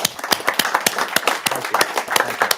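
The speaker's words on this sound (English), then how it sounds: "let's everybody give Holly a cheer" Audience at a town council meeting clapping steadily, a dense run of sharp claps lasting throughout with no break, fairly close and moderately loud.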